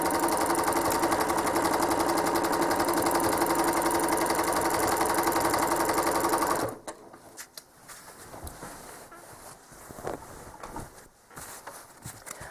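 A home sewing machine machine-quilting a swirl runs with a loud, steady whirring stitch for several seconds, then stops abruptly, leaving faint scattered handling clicks and no speech.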